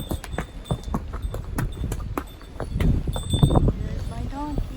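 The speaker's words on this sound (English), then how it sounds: "Here's my donkey." Donkey hooves clip-clopping on the ride up Santorini, an uneven run of close, sharp knocks under faint voices and outdoor noise.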